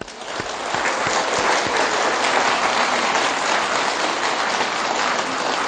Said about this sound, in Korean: 그 유관순 누나에게 뜨거운 박수를 한번 보내드려요.